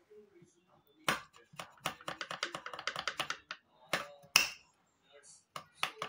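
Knife chopping food into fine pieces on a board, a quick run of sharp, closely spaced taps that starts in bursts and ends in a few scattered strikes, close and fairly clear.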